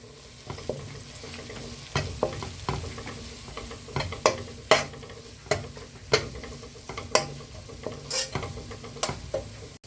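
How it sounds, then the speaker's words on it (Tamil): Spice masala of coriander powder and garam masala frying in oil in a pan for Kerala-style egg gravy, stirred with a utensil: steady sizzle under a dozen sharp scraping knocks spaced roughly a second apart, close and with no voices. "போட்டு கிண்டி விட்டுக்க வேண்டியதுதான்"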